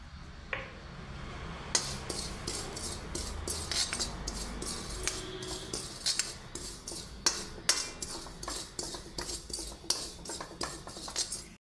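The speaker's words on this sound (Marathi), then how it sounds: "आता ही खसखस घेतले, मी परतून घेतो" Poppy seeds are roasted and stirred in a pan with repeated light metallic scrapes and clinks of a spoon against the pan in an irregular rhythm over a faint sizzle, close and fairly quiet, with no speech.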